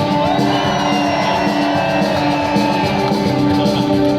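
Concert crowd at an outdoor festival show in A Coruña, Galicia, shouting and cheering loudly and continuously, a dense roar of many voices with whoops rising above it.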